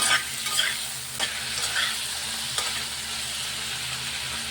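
Half a kilo of chicken frying in oil over low heat gives a steady, close sizzle, broken by a few sharp scrapes as the pieces are stirred in the pan.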